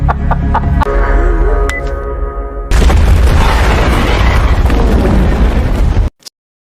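A large film explosion triggered by a mobile phone hits as a sudden broadband blast about midway, following a quieter tonal passage, then roars loudly for several seconds before cutting off abruptly.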